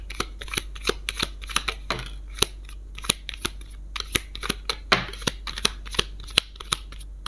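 Tarot cards are shuffled for a reading, producing a quick run of crisp, close snaps and riffles in an irregular rhythm against a quiet background.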